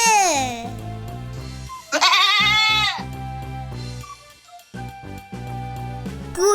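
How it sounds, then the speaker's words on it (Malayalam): A goat bleats in wavering, quavering calls, one at the start and a longer one a couple of seconds later, both loud and up front over a steady backing melody. "ആട്"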